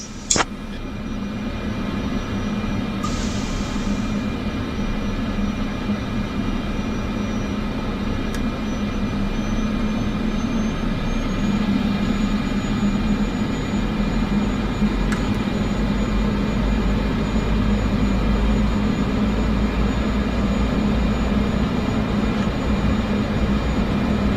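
A Cessna Caravan 208 in a flight simulator game takes off, its turboprop engine a steady, loud droning roar that holds for the whole stretch with no talk over it.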